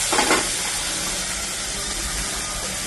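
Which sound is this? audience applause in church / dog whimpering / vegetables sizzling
vegetables sizzling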